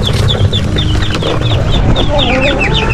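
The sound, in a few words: chickens clucking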